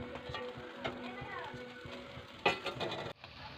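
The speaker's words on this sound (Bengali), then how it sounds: "শুটকি মাছগুলোকে আমি পুড়িয়ে নিচ্ছি।" Telfesa shutki dried fish roasts over a fire with a soft, faint sizzling crackle, heard close under a speaking voice and children's chatter.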